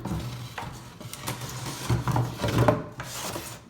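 Tubes of a homemade milk-carton mortar rack scrape and rub as an insert is pushed down into the carton, a close, dry scuffing and rasping with a few soft knocks, no talking.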